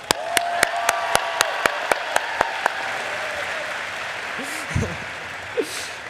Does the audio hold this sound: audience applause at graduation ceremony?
yes